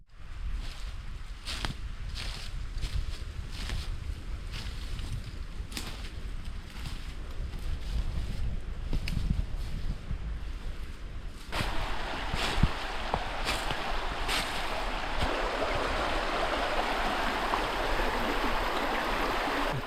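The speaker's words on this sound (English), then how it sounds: "The creek's moving pretty good." A rocky creek in the Wisconsin woods on a sunny, fairly calm late-autumn day, flowing steadily with a continuous close rushing wash that grows fuller and louder about halfway through, with a few light scuffs or steps over it.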